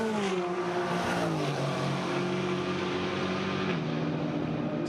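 McLaren GT4 race car at Monza circuit during a GT4 European Series race, its engine droning steadily at high revs with a gear shift and slight pitch changes, heard alone without talk.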